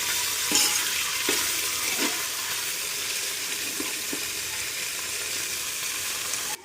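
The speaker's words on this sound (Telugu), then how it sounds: "mixing mixing mixing" Food being stirred in a hot frying pan with herbs, kasuri methi, green chilies, coriander and mint: a steady sizzle with a few soft spoon scrapes against the pan.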